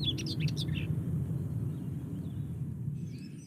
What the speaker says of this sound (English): Their white throats and pretty song make the common white throat easily recognisable.